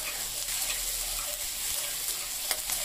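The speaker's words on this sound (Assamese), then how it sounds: "এতিয়া পিঁয়াজখিনি ভালকৈ লৰাই লৰাই ভাজিব লাগিব।" Chopped onions and green chillies are stirred and fried in a pan, giving a dense, even sizzle with soft scraping stir sounds all the way through.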